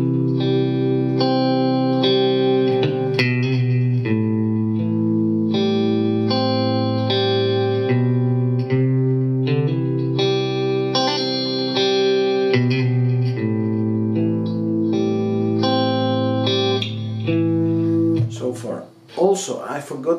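Electric guitar slowly plays a song, clean sustained chords and melody notes ringing with chorus and reverb, loud and close, ending in a brief burst of scraping noise.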